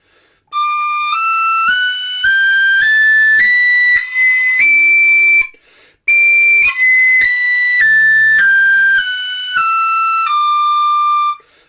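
A tin whistle climbs a scale of clear, pure notes in its upper register, pauses briefly, then steps back down, each tone held loud and close.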